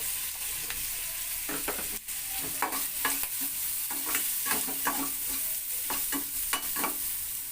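Shrimp frying in a pan with a little salt and turmeric, a steady crackling sizzle broken by repeated scraping stirs of a spatula, close and fairly loud with no talking.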